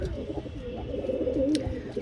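Black-tailed pigeon giving continuous, rolling coos up close in a loft, one clear burbling phrase rising out of the rest, with a brief sharp click near the end.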